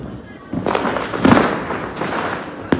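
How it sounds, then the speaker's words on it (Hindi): Skyshot fireworks bursting during Diwali celebrations, heard as a series of sharp booms and crackling bursts at varying distances over a noisy festive background. "यार मेरे पीछे देखो यार कितने सारे स्नैच शॉट जल रहे हैं एक साथ"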